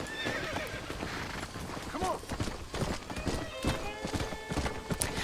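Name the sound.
horse neighing and hooves in the video game Red Dead Redemption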